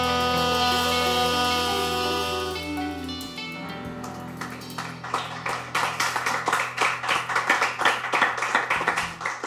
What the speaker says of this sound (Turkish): Vallahi Beleştepe de alkışlıyor.